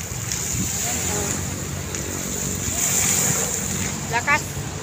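Water rushes loudly and steadily at a park, a constant broadband roar close to the microphone, with wind buffeting and brief voices near the end.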